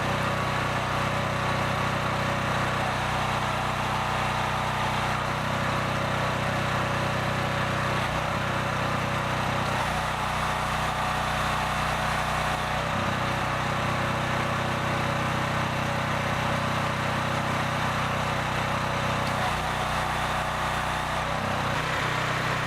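Predator 4400 PSI pressure washer engine running at full throttle, a steady loud mechanical drone with a buzzing hum and constant rumble, close by and unbroken, with no voices.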